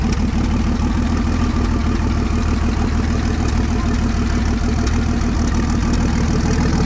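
A loud Omega six-cylinder turbo engine in a Chevette Marajó runs steadily at close range, a rough mechanical drone with a faint high whine from the high-pressure fuel pump riding over it.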